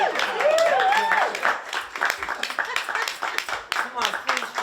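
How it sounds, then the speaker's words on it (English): An audience at a shipboard show claps for guests, scattered, uneven applause with cheering voices and talk over it, moderately close. "Dave and Tom, one more round of applause for them."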